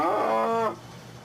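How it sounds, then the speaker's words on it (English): A recorded cow moo played in place of a tsunami warning siren test: a single long moo, loud and close, with a harmonic drone that cuts off abruptly and leaves a faint background hum. "instead of the real siren, they use a recording of a cow."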